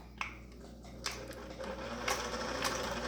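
A sewing machine stitches binding and elastic on a cloth face mask, a steady mechanical whir running close and continuous for a few seconds, with faint clicks as it starts.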